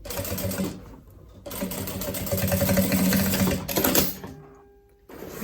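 A sewing machine closes the seam on a tote bag in close, loud runs of rapid stitching, with brief stops between bursts.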